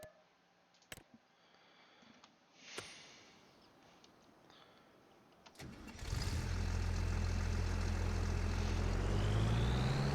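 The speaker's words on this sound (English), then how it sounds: "Okay, we got the mower going." Mower engine in Farming Simulator 25 cranking after a few clicks and soft thuds, then catching and settling into a steady loud running drone for the remaining seconds.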